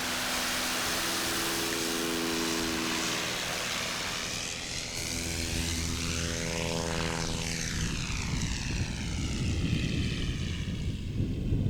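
A big dorsal fin Stinson airplane's propeller engine roars loudly and steadily during a short takeoff at an Appalachian STOL practice, its pitch shifting and sweeping as the plane passes close by, then fading into rumbling wind.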